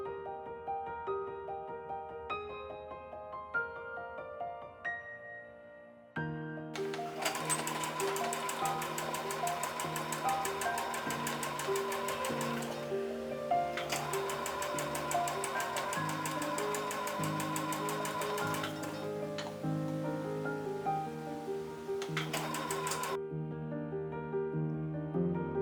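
A sewing machine stitches the neckline and skirt of a beach cover-up in two long continuous runs with a brief pause between, under soft background music.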